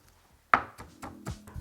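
Garlic cloves being crushed with coarse rock salt for tzatziki, a handful of sharp, close knocks and pounding taps in an irregular rhythm after a quiet start, with no talk.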